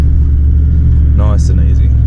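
A car creeps uphill in first gear, its low engine rumble steady and close throughout, with a voice briefly speaking over it in the middle.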